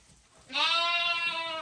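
A Haymana Karası flock of sheep and lambs out grazing at night gives one loud, drawn-out bleat that rises sharply and holds, close and alone over faint background noise.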